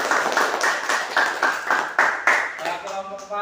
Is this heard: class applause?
yes